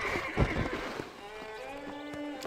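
Horse in the Red Dead Redemption video game being reined in: a close neigh and snorting with a few hoof thuds, over a faint background and no talk.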